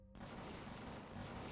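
Spaceship cannons in the Empyrion space game fire continuously at attacking drones, a dense, loud barrage of overlapping blasts with no clear gaps.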